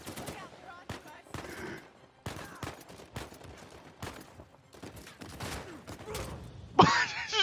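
Rapid gunfire from a flintlock pistol and other weapons in the video game Uncharted 4: a dense string of sharp cracks and thumps, repeated irregularly, with a louder burst near the end.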